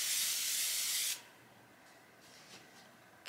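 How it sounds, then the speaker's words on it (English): A spray bottle spritzes a coconut-scented hair refresher onto curly hair, one long close hissing burst of about a second, followed by quiet handling rustles and faint soft sounds. "Let's spritz some on my hair."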